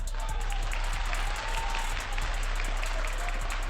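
Applause from a crowd gathered at a Jamaican political talk, steady clapping throughout, fairly faint and distant over a constant low hum.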